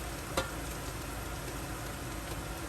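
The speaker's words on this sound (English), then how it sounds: "we have our veggie sauteing over there" Vegetables with corn and sweet peppers sautéing in a pan on the stove for a pigeon peas rice, a steady soft sizzle with light stirring and one brief clink near the start, with no talking.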